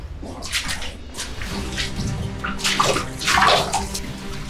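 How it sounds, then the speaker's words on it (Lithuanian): Water rushes and splashes past a collapsed small dam inside an underground limestone mine, a close, churning gurgle that swells and sloshes unevenly over several seconds with no voices. "Bėga vanduo."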